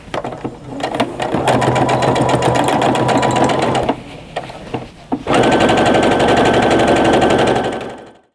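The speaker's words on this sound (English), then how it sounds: "I'm going to go ahead and take this one off and sew my other pillowcase as well." Sewing machine stitching pillowcase seams, running in a loud fast mechanical rattle in two long bursts separated by a brief pause with a few clicks, heard up close with no talk.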